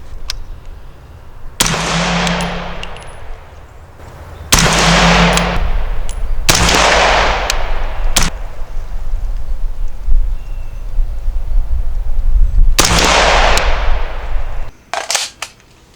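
Loud rifle shots from the Frankin-Blaster, a custom rifle fitted with a Trijicon TA33 ACOG, ring out one at a time at uneven intervals, each a sharp close crack with a long echoing tail, and the last two come in quick succession.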